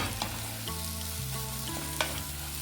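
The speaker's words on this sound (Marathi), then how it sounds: "बारीक गॅस करून मस्त असा आपल्याला मसाला हा परतून घ्यायचा आहे" Masala paste for Kolhapuri misal frying in a pan on a low flame, a gentle steady sizzle with a steady low hum and a light clink of the spoon near the end.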